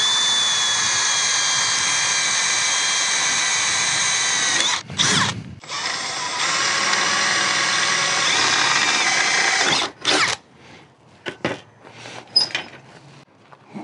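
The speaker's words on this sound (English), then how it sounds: "I'll be able to cut the aluminum angle right up in here." A power saw cuts aluminum angle held in an old 1980s Black & Decker Workmate 300, screaming steadily, pausing briefly, then cutting again before trailing off into scattered clanks and handling noises.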